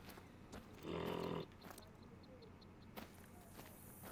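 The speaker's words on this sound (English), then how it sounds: "Sound like a sheep call, potentially." A single sheep bleat rises once from a quiet outdoor scene, with faint footsteps and rustling around it.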